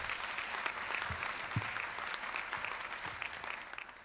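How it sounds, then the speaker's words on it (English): A conference plenary audience at the COMTO 2015 gathering applauds, steady sustained clapping from a full room filling the whole stretch at moderate volume with no talk over it. "Let's give her a great round of applause."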